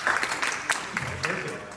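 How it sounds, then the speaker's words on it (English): Audience applause breaks out at a youth summit panel on policing and mental health, a short burst of dense clapping that fills the room and stays steady before tapering slightly. "let's give them a round of applause for being here"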